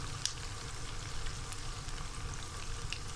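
Whisked yogurt hits hot chicken jalfrezi in the pan and sizzles steadily, a soft, even frying hiss with a few faint crackles, close and quiet, with no talking.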